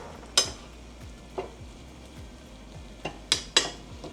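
A spoon scrapes and clanks against a pot of homemade hamburger helper, a few sharp metallic knocks spaced over a faint simmering hiss, close and fairly quiet with no talking.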